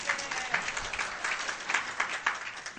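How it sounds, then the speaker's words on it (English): A brief round of applause rises from an audience at a talk, a continuous patter of many hands at moderate volume with slight swells and no voices over it. "So I want to give him another round of applause."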